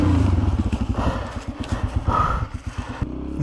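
A 125cc motorcycle ridden through woodland, its engine a close, low, steady putter with rhythmic pulsing that dips briefly near the end, with no talking.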